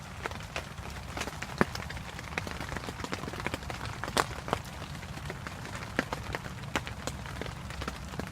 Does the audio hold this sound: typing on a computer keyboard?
no